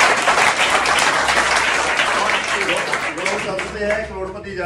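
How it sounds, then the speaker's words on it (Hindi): Students in a classroom give loud, dense applause that stays strong for several seconds, then thins slightly toward the end with some voices mixed in. "अच्छा जोरदार तालियां हो जाए।"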